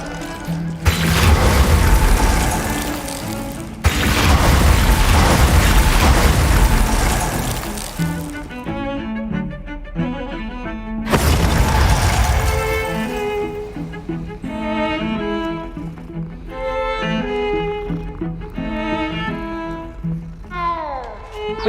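Glacius ice spell cast in the Hogwarts Legacy video game: loud bursting blasts with broadband crackle in the opening seconds, then a second burst near eleven seconds, followed by tonal ringing magical effects and music-like shimmer.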